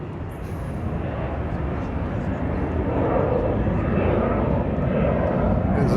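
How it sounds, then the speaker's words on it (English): A fixed-wing airliner passing overhead on Lanzarote, a steady broad engine roar that builds slowly over several seconds, heard from the ground outdoors. "Plane."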